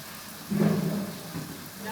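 Rain falls steadily around a truck driving on a wet road, a soft even hiss with a brief low rumble swelling partway through.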